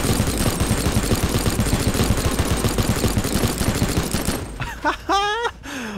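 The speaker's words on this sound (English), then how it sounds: "I need this minigun in my life." Minigun fire in the sandbox game Teardown: a loud, dense, continuous rattle of rapid shots for about four seconds, which cuts off into a brief burst of whistling, warbling tones with scattered noise.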